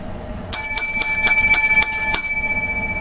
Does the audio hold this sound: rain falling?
no